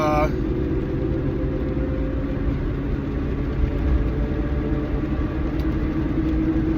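A red Ford F150 truck drives along with a steady low road rumble and engine drone heard from inside the cab, while a person talks over it.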